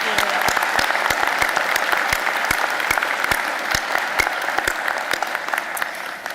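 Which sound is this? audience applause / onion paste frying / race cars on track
audience applause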